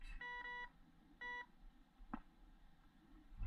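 Metal detector signaling on a buried target in a first-time detecting session, giving two clear electronic beep bursts close by, each roughly half a second long, over quiet outdoor background with a faint knock afterward.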